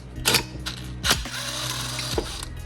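Ratchet wrench cracking loose a nylon-insert locking nut on a Toyota MR2 SW20 steering pinion, giving a few sharp clicking bursts and creaks over a steady low mechanical hum, close up with no talking.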